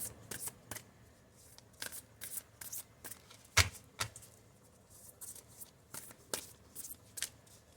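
Tarot cards being shuffled and drawn, a run of crisp, fast riffling flutters and light card slaps in irregular bursts, close and fairly quiet, with no voices.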